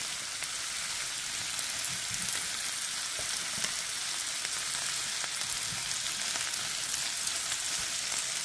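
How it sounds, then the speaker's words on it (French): Bacon fries with sautéed potatoes in a pan, filling the space with a steady, even crackling sizzle and occasional faint pops, with no voices over it. "je vais rajouter là mon bacon à l'intérieur"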